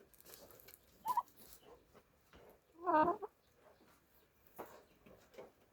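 Turkeys gobble on a household farm, heard as two short, quiet bursts of calling, the second louder and fuller, with soft background noise between them.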